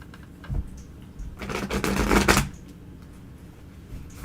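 A deck of tarot cards is shuffled in one dense, riffling burst lasting about a second, close and crisp, framed by light taps before and after.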